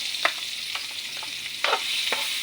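Garlic frying in hot cooking oil for shrimp pasta, a soft steady sizzle broken by several crisp spatula scrapes and stirs, close by with no talking.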